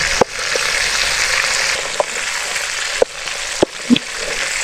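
Chicken fries in a pan with a dense, steady close sizzle, broken by a few sharp taps and clicks from a utensil.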